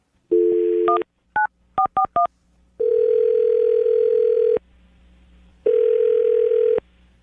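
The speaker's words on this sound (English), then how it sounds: "I'm going to dial the phone number right now" A telephone sounding a steady dial tone, then a quick run of touch-tone digits and two long tones after the number is keyed in, loud and clear with no talking.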